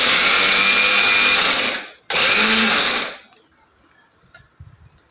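A mixer grinder whirs loudly as it grinds roasted peanuts into powder, running in two bursts with a brief stop between. It then winds down and leaves faint rattling and handling noises.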